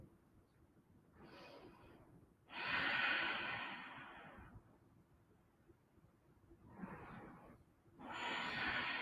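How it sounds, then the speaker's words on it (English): Slow, deliberate breaths during a yoga session, audible airy inhales and longer exhales alternating in a calm, steady rhythm, close to the microphone with no talking. "Inhale. Exhale. Inhale. Exhale."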